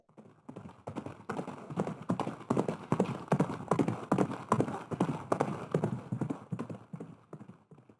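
Hooves clip-clop in a steady quick rhythm, a horse trotting or galloping fairly close, with no other sounds around it.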